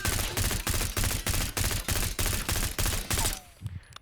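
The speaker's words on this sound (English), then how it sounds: "Just one tap of the trigger. Let's see what the recoil is." A Stryder .22 fires in rapid automatic bursts in a video game, a loud, evenly spaced string of about ten sharp shots that stops abruptly near the end, with no voice over it.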